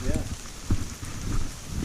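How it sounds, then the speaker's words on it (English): Rain falling during a forest hike on the Moleka Trail to Makiki Valley, a steady close patter on leaves and ground throughout, with low soft thumps and a murmur of voices underneath. "I had no idea it was going to be this rainy."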